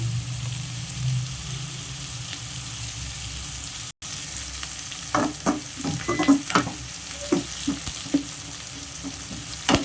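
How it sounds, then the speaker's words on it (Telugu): Chopped onions and tomatoes frying in a pan for a ridge gourd and moong dal curry, a steady sizzle with occasional stirring scrapes and clicks, close and moderately loud, briefly dropping out once. "ఇట్లా ఈ విధంగా వేగిపోతే సరిపోతుందండి ఉల్లిపాయలు ఎర్రగడ్డ ముక్కలు"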